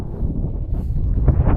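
Steady low wind rumbles and buffets the microphone throughout on a high mountain pass at 3900 m in Kyrgyzstan, a continuous roaring gust with no voices.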